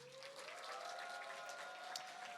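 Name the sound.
congregation applause welcoming a preacher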